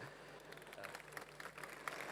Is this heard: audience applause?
yes